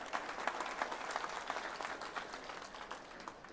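Audience at a Maharashtra electricity technical workers' union convention in Kudal clapping together, a moderately faint, dense patter of many hands that keeps going steadily and eases slightly toward the end.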